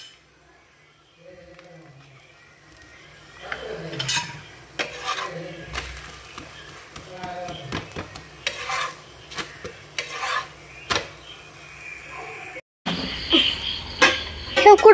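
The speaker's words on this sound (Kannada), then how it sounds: "ಹೋಮ್ ಮೇಡ್ ತುಪ್ಪ ಹಾಕ್ತಾ ಇದ್ದೇನೆ" Homemade ghee goes into a hot pan and is stirred, with a soft sizzle under a string of scraping and clinking strokes that get louder toward the end.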